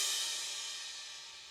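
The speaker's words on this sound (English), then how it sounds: "And then there's this crash on the initial hit" A crash cymbal rings out from its opening hit, a bright, hissing wash that slowly fades away alone without any voices.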